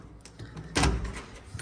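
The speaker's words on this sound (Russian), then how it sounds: "Если я открою дверь одной рукой." A house's front door opened with one hand: a single muffled thump and rattle of the latch and door near the middle, close by, against a quiet indoor background with faint knocks.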